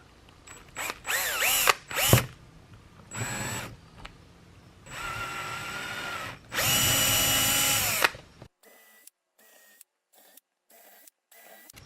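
A power drill whines in several short bursts while drilling holes in a vehicle roof for a Maxxfan Deluxe roof fan, then two longer sustained runs, followed by quieter scattered clicks and taps.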